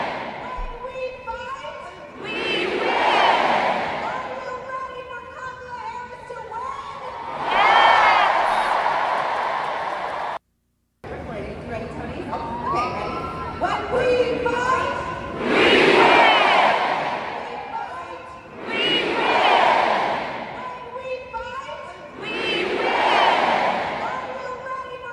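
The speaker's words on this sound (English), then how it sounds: "The crowd was fired up." Large crowd at the Democratic National Convention roaring and cheering in repeated swelling waves, loud and reverberant in a big arena, with a brief cut of silence partway through.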